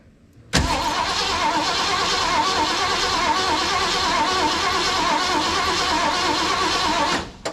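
A 1974 Ford Bronco's engine, not run in over 16 years, cranks over on a remote starter button with the ignition off, a loud continuous churning whir that starts abruptly and runs steadily for about seven seconds before cutting off.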